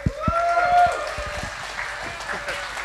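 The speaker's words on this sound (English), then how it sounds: "and a round of applause." An audience applauds to welcome a speaker to the stage before a talk, with a steady wash of clapping running through the whole moment and voices and cheering mixed in.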